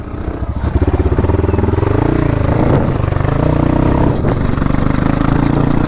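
A motorcycle engine runs loud and steady on an enduro trail ride, its rumbling note rising and falling slightly as the rider revs, with no voices over it.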